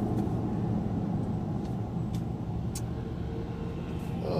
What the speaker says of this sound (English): I'm behind a bus that's got to stop at these railroad tracks